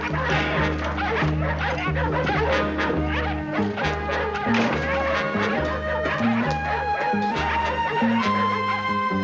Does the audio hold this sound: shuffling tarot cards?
no